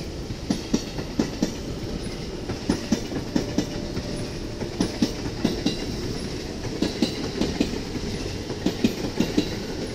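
A commuter train pulls out of a rail depot in the morning, with steady rhythmic clickety-clack of wheels over rail joints, a continuous moderate rumble with no voices.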